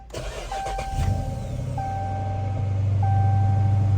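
A car engine cranks briefly and catches, then settles into a steady, loud idle with a rising hum.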